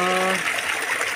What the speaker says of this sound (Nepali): वाउ कति ठुलो झरना